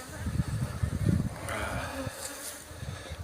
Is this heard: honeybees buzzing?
yes